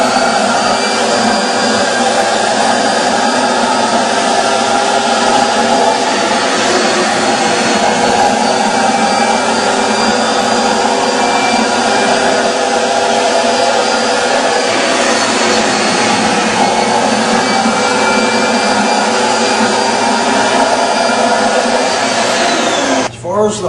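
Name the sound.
Steamin Demon carpet extractor running, sucking defoamer into recovery tank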